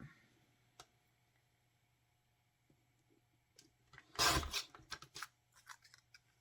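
Scissors cutting paper for a bird collage, a short burst of crisp snipping and rustling near the microphone, preceded by a quiet stretch with a few faint taps.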